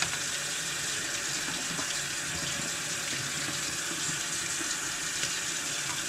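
Tap water runs steadily into a sink for rinsing, a continuous close splashing gush with no break, fairly quiet overall and no voices.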